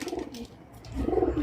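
Pet pigeons in a homemade coop coo in low, throaty bursts, one murmur near the start and a louder rolling coo toward the end, close by with no talk over them.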